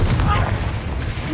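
A Confringo blast spell explodes in a Harry Potter video game, a loud booming burst with rumbling low end that rolls on for over a second, with a battle din around it.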